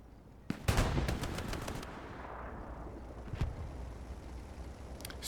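Gunfire in the World War II shooter Hell Let Loose: a rattling burst of rapid shots opens, followed by a rumbling tail, a later isolated shot, and more distant pops near the end.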